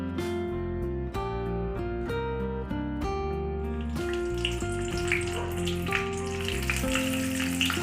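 Bay leaf and a little cumin sizzle in hot oil in a wok, a steady hiss that rises midway after gentle piano notes play alone at first and then continue beneath the frying.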